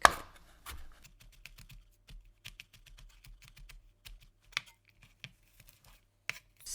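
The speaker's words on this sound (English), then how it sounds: "going to cut up the garlic." A knife chopping garlic on a cutting board while cooking Chinese mala cumin lamb ribs, quiet irregular sharp taps close by with short pauses between them.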